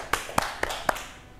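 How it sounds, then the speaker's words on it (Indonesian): A few people in a classroom group session clap for Mbak Nur: four distinct, evenly spaced claps, fairly faint, with no talking over them. "tepuk tangan buat Mbak Nur yang udah berani maju"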